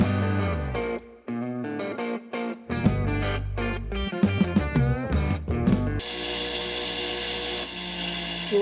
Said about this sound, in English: So we're going to use this Scotch-Brite wheel to clean it up and make it nice and